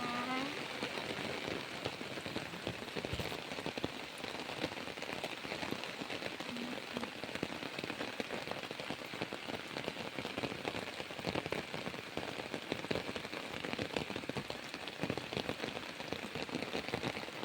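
Heavy rain falls outdoors by a rural fence line where leucaena seeds are being sown, a steady, even hiss of drops pattering on surfaces throughout, moderately loud with no pauses.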